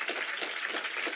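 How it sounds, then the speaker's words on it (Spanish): Faint audience applause for the participants of a Spanish-language debate, a brief even patter of many hands clapping heard at a distance. "Únase a mí para aplaudir a los participantes de nuestro debate."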